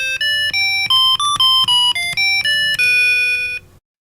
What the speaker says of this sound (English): it does do the little run of musical notes when you carry out a mathematical operation